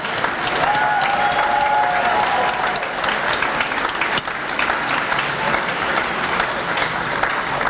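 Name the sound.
audience applause for graduating students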